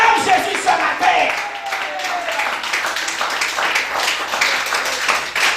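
A church congregation claps together in quick, steady rhythm, loud and close, with voices rising over the applause.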